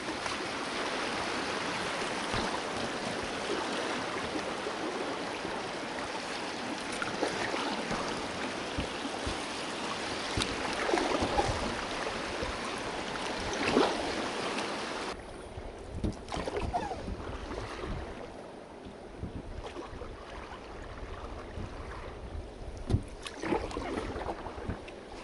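Seti River in Nepal rushing steadily past a raft, a broad continuous wash of flowing water with occasional splashes and wind, dropping to a quieter flow in the second half; no one speaks.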